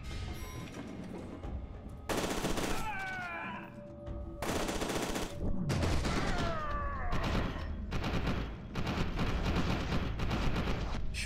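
Gunfire in the video game F.E.A.R. 2: Project Origin, with loud, dense bursts of rapid automatic shots and booming impacts that come in repeated volleys, broken by short lulls and whining tones.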